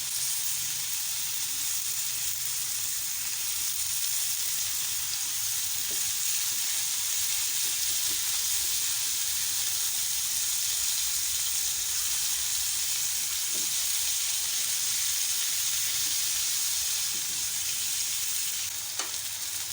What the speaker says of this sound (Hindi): मैं इसे मीडियम फ्लेम पे पका रही हूँ